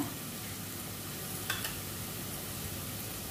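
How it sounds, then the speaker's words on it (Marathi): Turmeric, garam masala and Malvani masala stirred and sautéed in a pan for elephant yam bhaji, a soft continuous sizzle with one brief spoon scrape, quiet and close, no speech. "हे घालून थोडंसं परतवून घेऊ"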